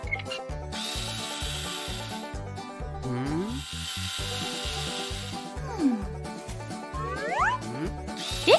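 An electric drill whirs in repeated bursts with rising and falling pitch as it bores a rope hole through wood, close and loud, with short pauses between runs.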